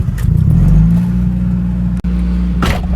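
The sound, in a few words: car engine starting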